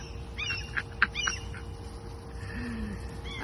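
An agitated seagull dive-bombing someone outdoors gives several short, harsh calls in a quick cluster, then fainter cries over steady background noise.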